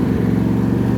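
A John Deere D140 lawn tractor's small engine runs loud and close at high revs, a steady, throbbing mechanical drone with a rapid pulsing rhythm and no voices over it.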